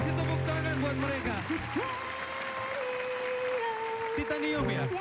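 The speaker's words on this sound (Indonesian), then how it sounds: "kasih tepuk tangan buat mereka" Applause from a television dating-show studio audience, clapping under lingering musical tones and held notes, with a host's voice or singing mixed over the crowd throughout.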